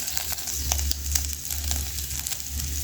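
Onions fry in a pot for Kenyan matumbo, giving a continuous close sizzle and crackle over a low hum, with a few light clicks of stirring and no voices.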